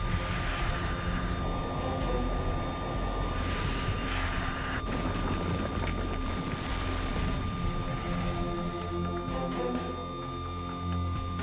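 Jet engines of a TAM Fokker 100 airliner roar loudly and continuously through a takeoff from Congonhas airport, a dense steady rumble with a whining tone that thins out near the end.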